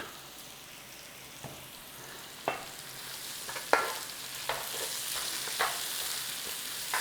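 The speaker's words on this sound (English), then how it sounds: "Give that onion a little saute for a couple of minutes" Onion sautéing in oil in a pan for a jerk pork hotpot: a soft, low sizzle with several sharp clacks of a spoon or spatula against the pan, fairly close, no voices.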